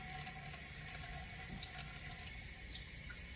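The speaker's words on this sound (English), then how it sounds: "we're going to start with a half a cup of water here" Half a cup of water pouring steadily for yeasted whole-wheat waffle batter, a soft continuous splashing stream.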